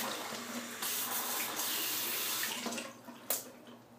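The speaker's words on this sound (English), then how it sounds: "just run it under the cold water" Cold tap water runs steadily into a sink over a synthetic shaving brush, a continuous close hiss and splash that thins out near the end.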